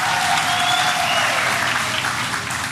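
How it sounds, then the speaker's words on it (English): A crowd at a political party rally in eThekwini applauds loudly and continuously, a dense wash of clapping heard up close that tapers slightly at the end. "Let's give them a great round of applause as well."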